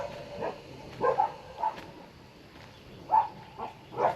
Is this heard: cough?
no